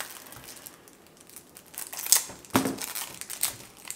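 Board game cards from the Dale of Merchants collection being unwrapped from their packs, a close, crisp run of crinkling and tearing plastic with a few sharper rips, no voices.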